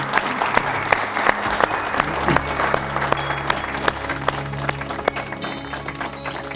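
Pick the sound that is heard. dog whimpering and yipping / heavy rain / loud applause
loud applause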